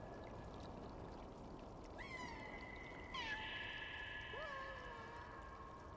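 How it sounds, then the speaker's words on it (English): A cat in the video game Stray meows several times in a row, drawn-out and wavering, over a soft steady hiss of background noise. "I hear the meowing!"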